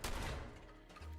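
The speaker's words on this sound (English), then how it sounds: "I want to see how it fires. That is a combat shotgun." A combat shotgun fires in Fallout 76: a loud, close blast opens, then a rumbling tail fades before a low hum picks up near the end.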